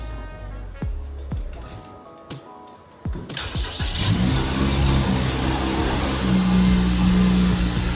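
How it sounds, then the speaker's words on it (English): A Honda K20 engine in an EG Civic cranks, catches and fires up for the first time, settling into a loud, steady idle with a throaty exhaust drone after a few clicks and clinks. "got the exhaust all buttoned up. Let's hear it with the exhaust."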